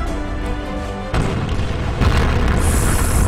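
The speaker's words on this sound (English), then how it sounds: "Takes a hit from the Rhymes Borsig." A heavy artillery shell strikes a tank in World of Tanks, a sudden deep boom followed by rumbling debris and a second loud impact, with no speech over it.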